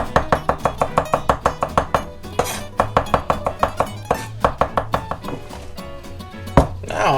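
A knife chops a garlic clove finely on a cutting board, with rapid, steady near taps in quick bursts and short pauses between runs, while preparing tzatziki.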